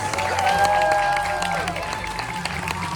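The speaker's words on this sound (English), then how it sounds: "give everybody on that stage a huge, thunderous round of applause" Thunderous applause from a cruise ship audience aboard the Carnival Venezia, with dense clapping and crowd noise sustained throughout at steady loudness, with a few tonal sounds riding on top.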